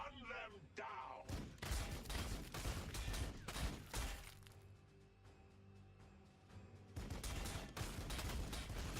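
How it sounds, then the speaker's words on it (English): Artillery barrage in the Warhammer 40000 Sanctus Reach strategy game, heavy repeated booming impacts and rumbling blasts that keep going throughout, with a brief lull in the middle before the loud strikes resume. "his artillery is striking me"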